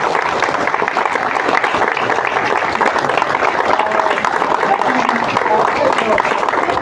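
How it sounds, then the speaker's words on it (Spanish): An audience claps throughout at a book presentation in an auditorium, a steady, dense wash of applause holding at an even level from start to finish. "por favor, a quien le pido fuertes aplausos."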